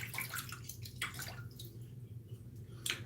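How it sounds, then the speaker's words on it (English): Water runs and splashes from a tap while a razor is rinsed mid-shave, a steady close trickle broken by irregular splashy bursts as the blade passes through the stream. "I'm gonna rinse real quick."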